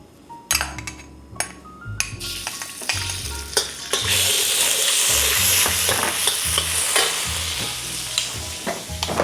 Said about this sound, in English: Just add a few tablespoons of oil. Then we add the garlic.